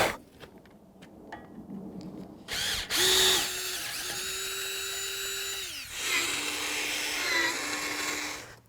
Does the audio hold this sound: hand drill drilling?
yes